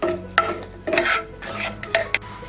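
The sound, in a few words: cashews and raisins frying and stirred in ghee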